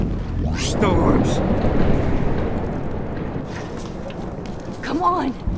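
A thunderstorm in the video game Life Is Strange rolls as a long, deep rumble of thunder under steady rain, with brief voice sounds near the start and end.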